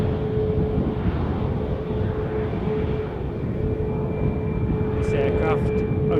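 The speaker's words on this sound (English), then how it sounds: "This aircraft, only 2 years of age, a Max 8." Boeing 737 Max 8 jet, two years old, at Edinburgh airport, producing a steady loud broadband roar with a sustained whine tone throughout, while a voice talks over it near the end.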